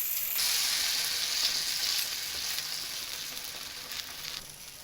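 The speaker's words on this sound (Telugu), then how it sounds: "పెసరట్టు వేసుకుంటామండి" Pesarattu, a moong dal crepe, sizzles steadily in oil on a hot pan, a bright continuous frying hiss that stays close and even throughout, with no voices.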